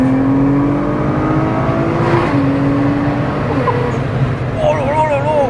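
An 800 hp Nissan GT-R running engine map 2 hums and builds revs inside the cabin, a loud steady engine tone with a rising whine, while someone talks over it.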